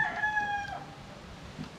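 A Grand Kelso cross stag rooster crowing once, near and clear, the drawn-out cock-a-doodle-doo fading after under a second, followed by faint ambient farm noise.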